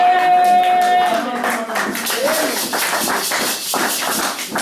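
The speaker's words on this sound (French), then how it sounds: "Regarde même vos acclamations." A church congregation at an evangelist's service breaks into clapping and cheering after a sustained tone fades, a rapid run of claps mixing with raised voices.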